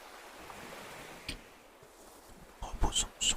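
Ocean waves washing onto a beach in Animal Crossing: New Horizons, a faint, soft hiss of surf in the background, with a few louder rustling bursts and light chimes toward the end.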